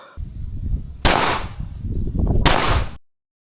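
Two sharp gunshots from an open-class pistol fitted with a compensator, spaced about a second and a half apart, each a loud close crack followed by a brief ringing decay before the sound cuts off.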